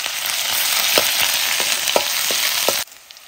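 Garlic frying in hot oil in a pan over an outdoor cooking fire, a steady close sizzle with occasional sharper pops and stirring scrapes, cutting off abruptly near the end.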